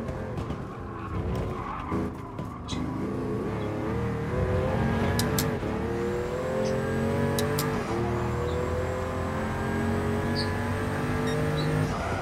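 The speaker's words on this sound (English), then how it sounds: "now we're in the Pagani Huayra" A 2013 Pagani Huayra supercar in the Gran Turismo Sport racing game, its engine droning and rising through the gears with tire squeal and skidding, loud and continuous throughout.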